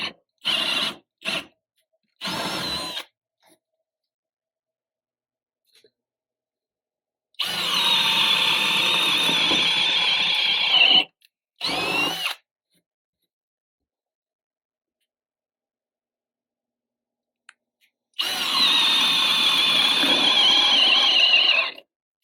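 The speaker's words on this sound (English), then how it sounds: "we're going to use our drill and our 7/8 bit and just drill in that center mark" A power drill with a 7/8 inch bit bores into wood in bursts: three quick short runs, then two longer whirring stretches, with silence between them.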